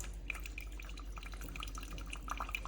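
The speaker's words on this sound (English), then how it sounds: "Drip coffee." Coffee dripping from an Instant Pot K-Cup pod compatible single-serve coffee maker, with faint, irregular liquid drips and trickles over a low steady hum and no talking.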